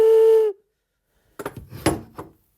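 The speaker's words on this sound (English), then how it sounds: "He is a whistle." A toy whistle bought at a garage sale gives one short, loud, clear tone that stops abruptly. A pause follows, then some brief handling noises.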